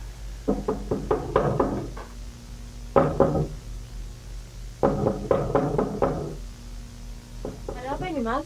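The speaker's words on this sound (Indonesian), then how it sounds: "ibu terbangun dari suara gedorang pintu" Heavy pounding knocks on a door at dawn arrive in several rapid bursts of blows separated by short pauses, loud and close, with a brief voice near the end.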